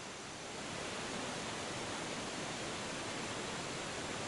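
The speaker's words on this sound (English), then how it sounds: "I usually end up on the waterfall, which you can hear." A steady, dense rush of a video game waterfall on a golf course fills the scene, constant and hissing without pause, fading in at the start.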